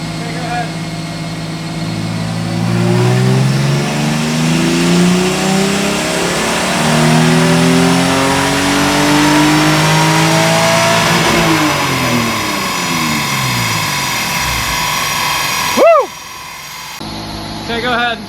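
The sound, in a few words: 2JZ Lexus SC300 engine revving during dyno pull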